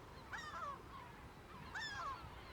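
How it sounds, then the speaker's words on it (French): A seagull gives two loud, squealing calls a little over a second apart, outdoors over a steady wind-like background hiss near a war-damaged nuclear power plant. "Ta gueule la mouette!"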